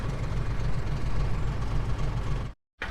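A tractor and six-wheel trucks working on a dirt road give a steady low engine rumble at moderate distance, continuous until a brief dropout near the end.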